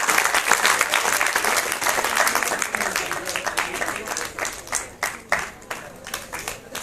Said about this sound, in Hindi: जोरदार तालियां इनके लिए बजाते रहिए।